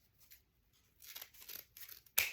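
Scissors cutting ribbon for a Christmas bow, a few quiet crisp snips and rustles close by, ending with one sharper cut.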